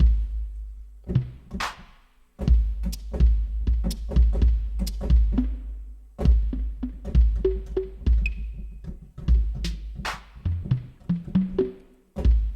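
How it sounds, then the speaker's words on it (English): Deep, booming 808 drum machine hits with punchy kicks and sharp snappy percussion form a sparse beat, with a few short tonal blips. "Unmistakable sound of an 808."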